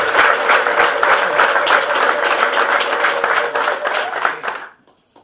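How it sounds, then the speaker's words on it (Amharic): A church congregation applauding loudly for about four and a half seconds, dense steady clapping throughout before it cuts off abruptly into near silence. "እስቲ ከፍ ያለ ጭብጨባ ለልታ ለጌታ ስጡ።"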